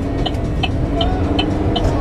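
A car driving steadily and turning left, with a constant low engine and road hum, and a faint indicator-like tick repeating about every 0.4 seconds.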